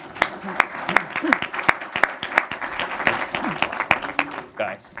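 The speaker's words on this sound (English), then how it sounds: "let's give him a big round of applause." Audience at a commercial real estate association meeting giving a speaker a round of applause, scattered distinct claps with voices talking over them.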